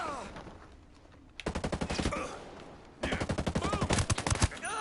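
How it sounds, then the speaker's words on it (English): Rapid automatic gunfire in the video game Ghost Recon Breakpoint comes in two loud, close bursts of evenly spaced shots, with quieter game sounds between them. "You plan on shooting?"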